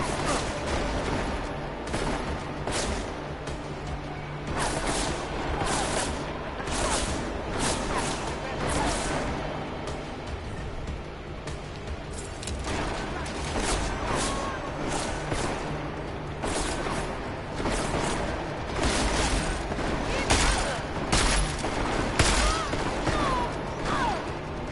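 Gunfire with armor-piercing rounds in Deus Ex: Mankind Divided: a dense stretch of repeated sharp shots and impact crashes over game noise, steady and loud for the whole span with no talk.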